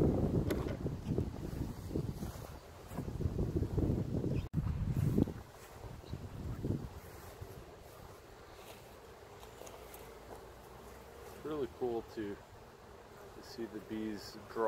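Gusty wind buffets the microphone outdoors beside a beehive, loud rumbling bursts that come and go. A voice speaks briefly, and there are some handling sounds later on.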